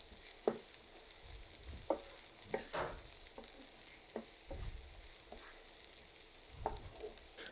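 Two chopped onions fry in a pan, a faint low sizzle broken by several sharp spatula scrapes and stirring knocks, quiet and close.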